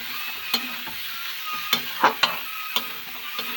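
Peas and potatoes frying in a pan with spices, a steady close sizzle broken by several sharp clinks and scrapes as a spoon stirs them.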